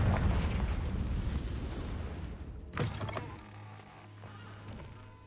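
Confringo blasting spell exploding in Hogwarts Legacy, a heavy booming burst up front with rumbling debris, followed by a sharper secondary crack and fading echoing rumble, no talk.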